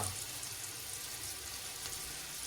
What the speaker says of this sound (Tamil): அதனால் வெங்காயத்தை நல்லா வதக்கி விடுவோம்